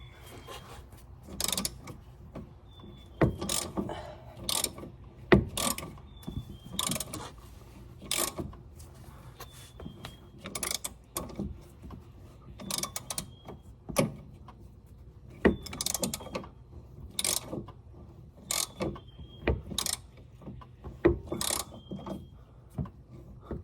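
A ratchet working the rear strut bolts on a Honda Prelude, with repeated clicking bursts in irregular runs, close and fairly quiet, separated by short pauses and occasional metallic clunks of the tool and bolts.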